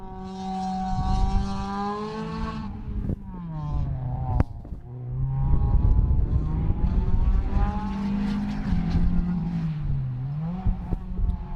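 A small autoslalom race car of up to 1400 cc, built by Ivan Valovic, revs hard through a run, its engine note climbing and dropping with gear changes, loud and close, with brief talk and a sharp knock between shifts.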